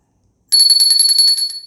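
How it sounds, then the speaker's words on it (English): After a brief silence, a small handheld bell rung before a tarot reading shakes loudly and up close, its rapid clapper strikes blending into a bright, sustained ring that fades slightly at the end. "Let's get out our bell and set our tone for this reading."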